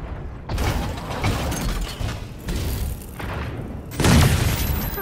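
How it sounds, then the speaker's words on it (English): Gunfire and explosions in the mecha video game Super Mecha Champions Mobile: loud bursts of booming blasts and rattling, mechanical clatter in several surges, with a heavy boom near the end. "Trying to draw us in with gunfire, are ya?"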